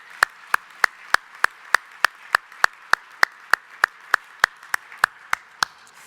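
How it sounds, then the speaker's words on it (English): Audience applause at an economic summit afternoon session, heard as a steady, evenly spaced run of about twenty sharp claps, close and moderately loud, more like one or a few hands clapping in rhythm than a full crowd. "please join me in a round of applause"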